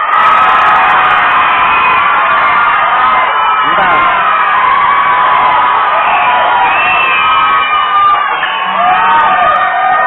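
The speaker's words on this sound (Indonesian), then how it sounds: "Coba mana suaranya teriak?" Audience at an Indonesian variety show taping in 2014 shouting and cheering loudly on request, a sustained dense crowd roar with whoops and yells, with a voice speaking briefly over it.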